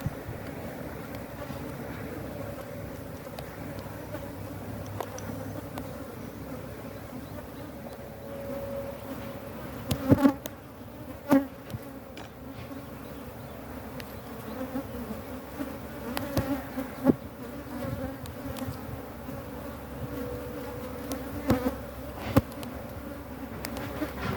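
Honeybees from a defensive hive buzzing around the beekeeper, a continuous droning hum with individual bees passing close by and occasional louder fly-bys, no voices.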